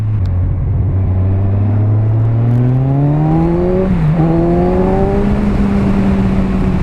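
A 2017 Kawasaki Z1000 naked motorcycle accelerating hard as the throttle is pulled, its engine note climbing steadily in pitch, dipping briefly at a gear change, then pulling on, loud and close.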